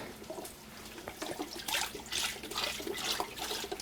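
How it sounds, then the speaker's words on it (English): Boxed chicken stock poured into an Instant Pot while braising chicken, a steady liquid splash and gurgle that swells and rises midway, close and alone without talk. "the rest of this I'm going to pour into my Instant Pot"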